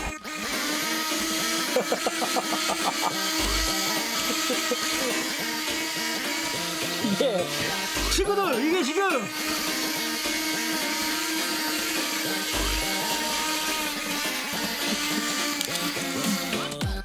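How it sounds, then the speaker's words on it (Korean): A Zoids toy robot fitted with a neodymium motor whirs loudly and steadily, with a few quick swooping rises and falls in pitch as it moves. "네오디움 모터 단 조이드 지금부터 한번 플레이해보도록 하겠습니다"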